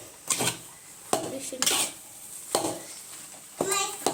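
A spoon clanks and scrapes against a pan while egg rice is mixed with coriander powder and garam masala. The clatter comes in several sharp, close bursts with quieter gaps between them.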